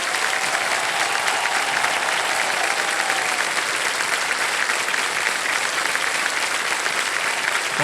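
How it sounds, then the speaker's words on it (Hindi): Studio audience applause for a contestant who has just won five lakh rupees on Kaun Banega Crorepati, sustained and loud, an even roar of many hands that goes on unbroken. "तालियां बजती रहें इनके लिए।"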